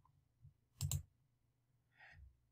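Mouse click selecting an RSI indicator in trading software: one short, close double click, with soft faint taps before and after it in a quiet room.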